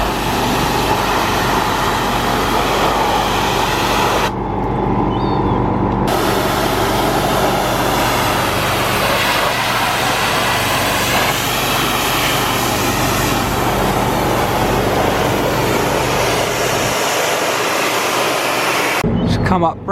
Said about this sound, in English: Giving it a quick spray and then we'll jet wash it down, and then hopefully it's looking new.